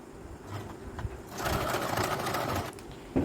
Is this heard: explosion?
no